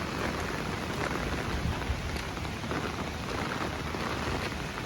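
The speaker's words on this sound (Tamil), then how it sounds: "நேற்று இரவில் இருந்து இப்படி பெய்கிற மழையால் இந்த இடங்கள் எல்லாமே இப்படி தண்ணியில் மூழ்கிட்டுது" Heavy rain pours steadily during a storm in Jaffna, a dense continuous hiss of downpour with no voices.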